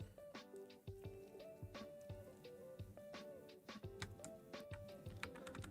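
Keys tapped on a computer keyboard while working in a URL shortener app, a steady run of sharp clicks over a faint tonal background, fairly quiet.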